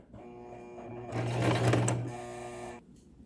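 A sewing machine stitches down the pleats of a fabric face mask: a steady motor hum that speeds up into a louder, busier run of stitching for about a second, then eases back to a lighter whir.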